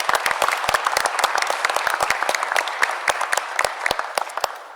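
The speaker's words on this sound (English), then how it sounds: "let's give a round of applause" A modest crowd at a mayor's address on falling violent crime claps in sharp, distinct, uneven bursts that thin out slightly toward the end, with no talking over it.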